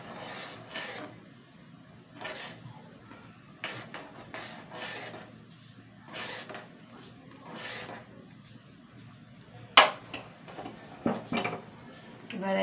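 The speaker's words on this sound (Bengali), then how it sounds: "এবার নেড়ে দেবো।" Rasmalai being stirred in a pan, with intermittent scraping and rubbing strokes of a utensil against the pan, moderately quiet, ending with a few sharper metallic knocks.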